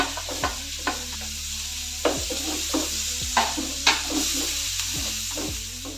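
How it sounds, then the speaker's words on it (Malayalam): Diced onion and capsicum sautéing in a pan for white sauce pasta: a steady close sizzle broken by repeated spatula scrapes and knocks against the pan at an uneven rhythm. "കണ്ടിന്യൂസ് ആയിട്ട് ഇങ്ങനെ സോട്ട് ചെയ്തുകൊണ്ടിരിക്കുക ഇടവിടാതെ"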